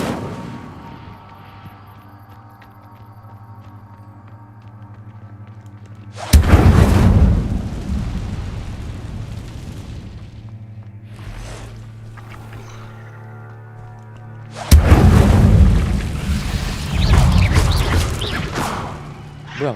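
Incendio fire spell cast in Hogwarts Legacy: two loud whooshing bursts of flame with rumbling booms rise over a steady humming game background, each fading gradually.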